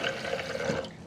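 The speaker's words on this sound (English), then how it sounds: "if you just fill it up a little bit of water" Water runs into a Hotel Chocolat Velvetizer hot chocolate maker during cleaning, giving a steady, close-up splashing and gurgling pour with no talk.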